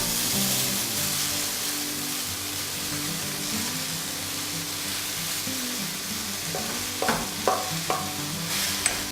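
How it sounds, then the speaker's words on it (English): Watermelon rind curry seasoned with asafoetida is stirred and fried in a pan: a steady close sizzle runs throughout, with a few sharper clinks of the utensil toward the end. "We'll mix it very quickly and we'll add the cut watermelon."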